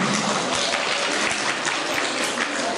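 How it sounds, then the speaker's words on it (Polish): An audience at a school music festival award ceremony applauds a dance and vocal ensemble's prize, a dense, even wash of clapping filling the brief moment. "Brawa, gratulacje."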